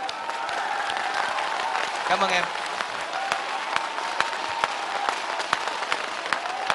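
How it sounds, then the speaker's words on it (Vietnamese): A studio audience at a televised singing competition final applauds warmly for a singer, steady dense clapping that continues under a host's brief spoken thanks. "một tràng pháo tay nồng nhiệt"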